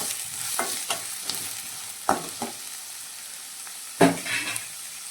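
Cumin, onion and curry leaves fry in a pan with a soft constant sizzle, broken by a few sharp scraping stirs of a spoon against the metal, close and without talk.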